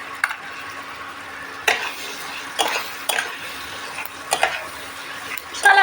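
Spices with turmeric and salt fry in a pan, a soft low sizzle broken by several sharp scrapes and knocks of a spoon stirring against the metal, close and moderately loud.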